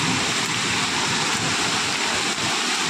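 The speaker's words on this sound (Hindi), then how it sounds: "ये देखो बारिश" A loud, steady broadband roar of heavy rain pouring down nearby, constant and unbroken throughout.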